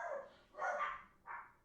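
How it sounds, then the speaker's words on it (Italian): Dogs barking in the background, three short, fairly faint barks in an uneven rhythm, with no talk over them. "Scusate per i cani."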